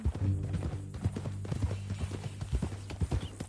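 Horse hooves clip-clop steadily in Red Dead Redemption 2, a close, regular trot of sharp knocks over a low droning background, with a brief whinny-like tone early on.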